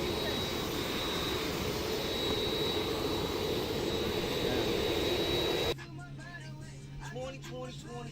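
Steady, loud roar of a private jet's engines in flight from Miami to Las Vegas, filling the cabin for about six seconds before the sound abruptly drops to a quieter hum with faint voices and music.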